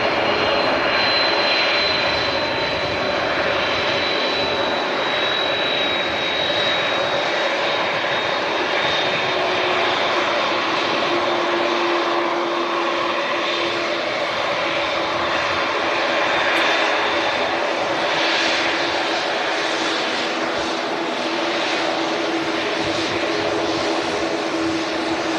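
Close to the microphone, a plane's engines roar loud and unbroken for nearly half a minute at Manchester Airport, with a slowly falling whine on top of the steady rumble as it passes, and no speech.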